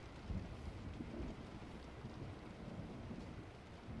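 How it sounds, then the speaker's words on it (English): A thunderstorm fills the air with a steady wash of heavy rain and wind, low rumbles of thunder swelling beneath it, dense and continuous with no voices. "I love listening to rain and wind and thunder as I'm trying to fall asleep."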